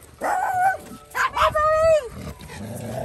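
A small dog lets out a few yappy, whiny barks and whimpers up close at a dog park, mixed in with people talking.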